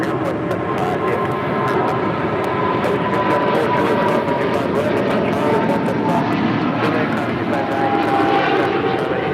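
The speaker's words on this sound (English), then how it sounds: "the 777 freighter now rolling down 25 right" A Boeing 777 freighter rolls down runway 25 Right at LAX with a loud, sustained jet engine roar and a low rumble, steady throughout. Faint radio chatter and voices sit beneath it.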